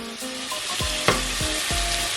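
Portuguese chicken curry (frango caril) with turmeric frying in a pan over raised heat: a loud, continuous sizzle close by, broken by a few soft stirring scrapes.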